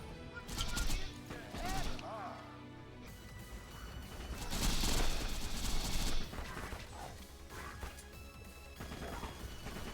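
Bursts of weapon fire and crashing impacts ring out in a modded survival video game, loud rapid volleys with gaps between them, layered over game effects and a voice speaking.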